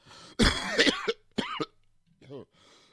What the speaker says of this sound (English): Quick cough to really get the frog out of his throat